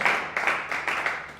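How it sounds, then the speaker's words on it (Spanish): Church congregation applauding loudly after a call from the pulpit, a steady dense wash of clapping with brief swells, no speech over it. "¿Cuánto le da un aplauso fuerte a Él?"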